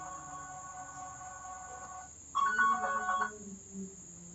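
A phone ringtone set off remotely through Google Find My Device: a short bright electronic melody bursts in after a faint steady tone and plays for about a second before fading.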